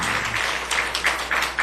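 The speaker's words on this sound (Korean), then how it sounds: "우리 축복의 박수 한번 해주셨으면 좋겠습니다" A church congregation at a Sunday afternoon service applauds together, a steady wash of clapping with soft rhythmic swells, fairly close and filling the room with no voices over it.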